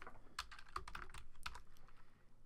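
Text is typed on a computer keyboard into a Photoshop Elements Christmas card layout: a quiet, close run of irregular key clicks over a couple of seconds.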